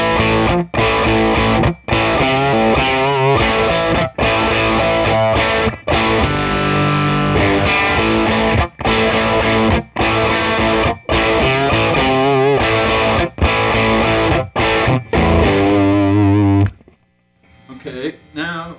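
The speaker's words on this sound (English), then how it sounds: "here's some distortion that's coming from the power tube" Heavily distorted electric guitar through a Dr. Z Maz 8 amp, power tube distortion with master full and volume low, playing chords and riffs, thick and saturated, loud and continuous with brief gaps, then cutting off near the end.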